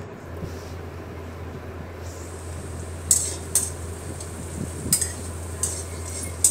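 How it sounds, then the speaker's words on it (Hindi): Onions and tomatoes being stirred in a pan over low heat for egg curry, with soft scraping and light clinks of a spoon against the pan over a quiet, steady low hum, and no talking. "इसे चलाते रहना है हल्के हाथ से, हल्के आंच पे"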